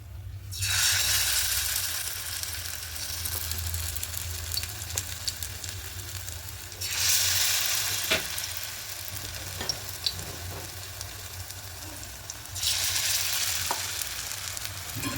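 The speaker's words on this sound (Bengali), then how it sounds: "এগুলোকে একইভাবে করে ভেজে নেব" Bread slices frying in a pan, a steady close sizzle that surges loudly in bursts as pieces are turned or added, with small scraping and tapping knocks from the utensil between the louder waves.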